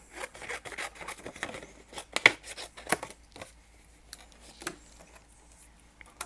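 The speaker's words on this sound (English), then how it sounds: "I think I'll just cut a piece of that off" Scissors snip through pink paper to trim a piece off a flower petal for a handmade thank-you card, giving a few close, crisp cuts with soft rustling of the paper between them.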